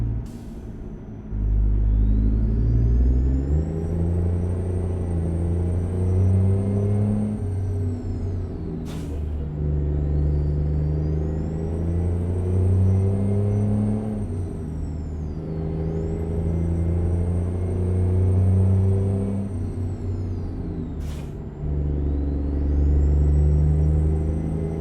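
A truck engine in American Truck Simulator racing on a track, a deep rumbling drone climbing in pitch through each gear, broken by sharp air-brake hisses at the shifts and repeating several times.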